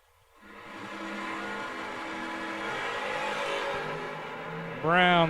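Dragsters roar down a drag strip in a sustained, loud engine blast, the pitch climbing as they accelerate, with a voice rising above the noise near the end.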